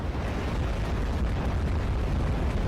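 A volley of missiles explodes in the real-time strategy game Act of Aggression, a dense, continuous roar of blasts and rumbling booms that stays loud for nearly three seconds without any voices.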